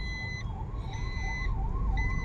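An ambulance siren passes through the busy streets of Paramakudi town during the Vinayaka Chaturthi festival, a steady wailing sweep with repeating high tones over loud low traffic rumble.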